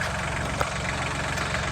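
A tractor engine idles steadily nearby, a low, constant mechanical rumble with a faint regular pulse and one small knock partway through, with no voices.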